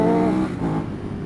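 Ducati Hypermotard 939 motorcycle engine, loud and close, dropping in pitch as it shifts down a gear, with a steady throaty drone that dips and then continues.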